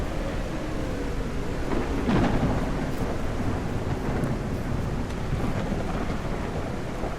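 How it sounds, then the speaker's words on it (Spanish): Heavy rain pours steadily while a low rumble of thunder rolls through, with no one speaking, in the video game The Parasites. "está lloviendo bien fuerte"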